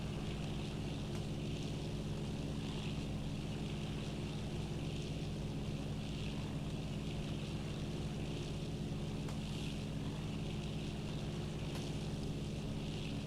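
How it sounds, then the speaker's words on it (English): Steady drone of a turbocharged Beechcraft Bonanza engine in Flight Simulator 2000, a constant even hum with no talking, heard from an external view. "Of the turbocharged Bonanza"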